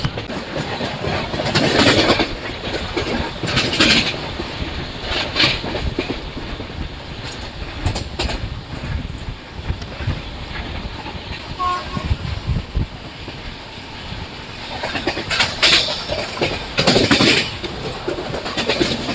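The Janmabhoomi Superfast Express 12805 runs steadily on rails with continuous rumble and clickety-clack, buffeted by wind noise and a few louder rattling bursts throughout.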